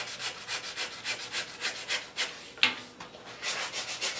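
A foam sanding block with 120-grit paper rubs back and forth over an English walnut HW80 gunstock in a steady rhythmic scrubbing, close and fairly quiet, with a small knock midway.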